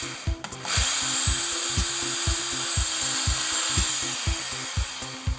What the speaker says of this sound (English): and then I'm going to drill.